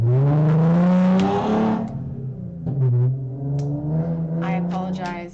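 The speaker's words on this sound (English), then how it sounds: "so they're revving their engine" Car engine revving outside, a loud sustained drone that rises and falls in pitch, then rises again as the revving repeats.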